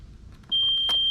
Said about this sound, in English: then it should beep back telling you that the hour meter has been reset